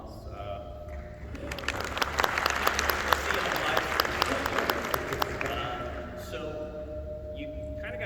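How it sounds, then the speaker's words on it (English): Audience at an apartment industry education session breaks into applause that swells, holds for several seconds and tapers off, with a little talk before and after. "if y'all could give him a round of applause"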